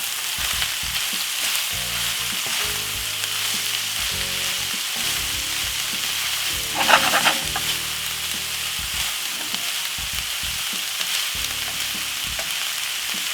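Cabbage and saltfish stir-frying in a pan, a loud continuous close sizzle with intermittent scraping and stirring, one brief louder clatter midway, no voices.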